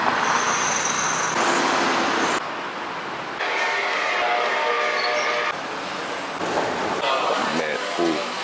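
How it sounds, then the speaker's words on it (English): A train ride in Singapore: steady rail rumble and rolling carriage noise that shifts in sections, with loud hissing passages and faint tonal squeals over a constant low drone. "I'm still taking the train."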